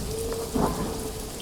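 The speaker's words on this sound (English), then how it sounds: "I don't think I've seen the rain since you changed it the other day" Steady rain pours in the Paradise Killer video game, a dense, continuous hiss with a low rumble of thunder swelling briefly in the middle.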